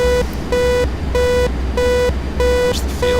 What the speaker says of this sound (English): so it's warning me that my gear is not down yet.